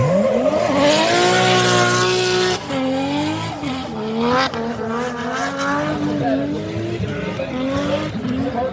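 Loud BMW E36 drift car engine roaring and revving hard at Mondello Park, pitch rising and falling through gear changes with tire squeal, continuous and close.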